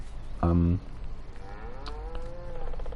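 A cow gives one short, close moo in Farming Simulator 19, standing out over a low farm hum, followed by faint gliding tones.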